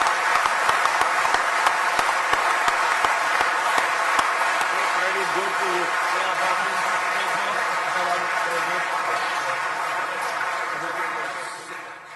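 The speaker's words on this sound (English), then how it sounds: "please give a round of applause to these agreements" Applause from a large audience at a City of London address by India's Prime Minister greets newly announced agreements: dense, sustained clapping that stays loud and then slowly tapers off near the end.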